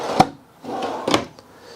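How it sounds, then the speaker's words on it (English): A built-in silverware drawer in the kitchen of a 2019 Coachmen Catalina 26TH toy hauler travel trailer slides open or shut, giving a sharp knock followed by a softer sliding rumble and a second clack, close and fairly quiet. "below cabinets with drawers with the built-in silverware drawer there"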